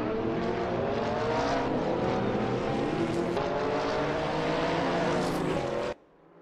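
Race car engines roar at Le Mans in a racing video game, with a Nissan among the field: a loud, sustained multi-tone engine drone with shifting pitch that cuts off sharply near the end.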